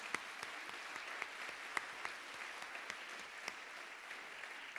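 An audience applauds steadily after a trade union general secretary's speech, a dense, even clatter of many hands with a few sharper claps standing out, and no talking.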